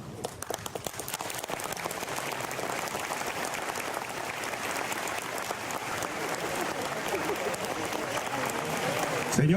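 A crowd applauds as the flag is unveiled at the 116th anniversary ceremony of Villa Ángela, the clapping starting as scattered claps and swelling into dense, sustained applause that grows louder toward the end.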